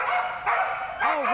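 Dogs bark and yip excitedly in repeated bursts during a flyball race with a team of four dogs running over four hurdles, loud and close, with a voice talking over parts of it.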